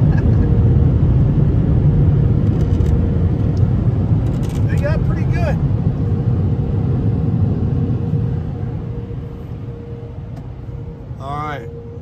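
Car wash air dryers blasting a car fitted with WeatherTech rain guards, a loud, steady roaring rumble that fades after several seconds, with voices heard briefly near the end.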